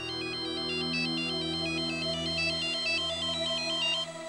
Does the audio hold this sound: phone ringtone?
yes